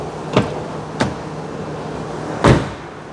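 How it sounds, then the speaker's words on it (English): Three solid thuds from the frameless doors of a 2024 Mercedes-Benz CLE53 AMG coupe being shut, two fairly close together and a heavier third one after a pause, heard close and with no talking. "let's hear the sound of the closing door"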